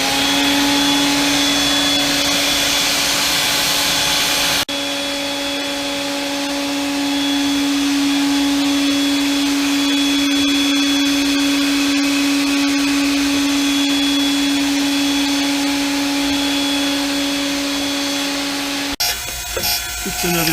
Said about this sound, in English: Turn the vacuum back on.